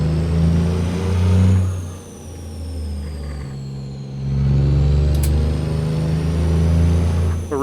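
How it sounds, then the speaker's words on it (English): A heavy truck engine in a truck-driving video game revs loudly and steadily, drops during a shift with gears grinding because no clutch is used, then climbs again. No one speaks. "The reason you hear grinding is because I don't use the clutch."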